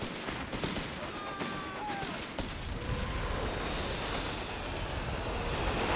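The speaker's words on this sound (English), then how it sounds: "Machine gunner identified. This is probably going to hit that." Machine gun fire in Company of Heroes 3 comes as sharp rapid bursts and single cracks over steady rumbling battle noise, fairly close and continuous across the whole stretch.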